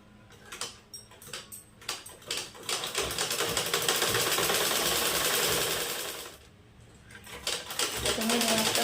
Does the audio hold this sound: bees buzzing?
no